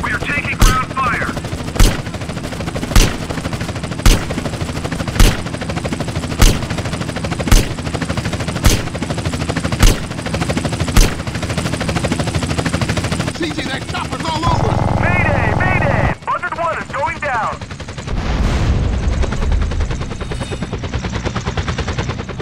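Helicopter rotor drone under rapid bursts of gunfire in GTA San Andreas, with sharp regular shots for the first half, then heavier chaotic firing and engine noise, voices shouting over the action.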